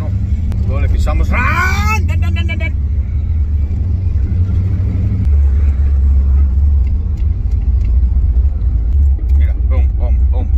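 A Ford Mustang Fox Body with a 347 engine rumbles deep and steady throughout, with a rising rev burst near the start, under voices talking.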